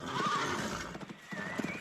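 A frightened horse's hooves clip-clop at a gallop while it gives a high whinnying neigh, close and fairly loud over a soft background.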